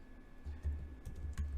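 Quiet, fast keystrokes on a computer keyboard as code is typed, a short run of soft clicks close to the mic with a faint steady hum behind.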